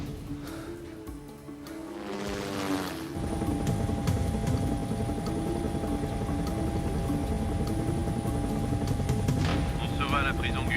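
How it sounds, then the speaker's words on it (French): A loud, steady helicopter rotor and engine drone starts after a few seconds and continues throughout, with a brief voice at the start. "Prends l'hélicoptère s'il le faut."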